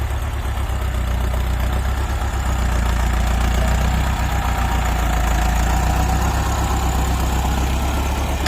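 A tractor engine at a sugarcane planting job runs at low revs, a loud, steady, throbbing low drone that holds constant throughout.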